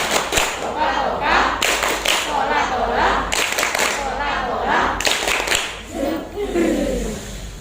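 A group performs the "tepuk pagi" clapping routine, rhythmic clusters of sharp claps and thumps set between chanted voices, loud and close, repeating in regular bursts.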